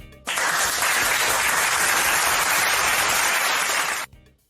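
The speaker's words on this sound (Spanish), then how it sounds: "Vamos a recibir con un fuerte aplauso a Ramona de Jesús" Loud, dense audience applause starts abruptly, holds steady for about four seconds, then cuts off, greeting a guest on a Latin community radio show.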